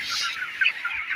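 Broiler chickens gathered at a feeder on a poultry farm give a brief, dense burst of clucking and chatter, fairly close and steady, with no voices.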